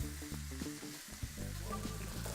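Hogget shoulder sears golden brown in a hot tray, giving a close, steady sizzle and crackle of fat with occasional clicks and scrapes as the meat is moved around.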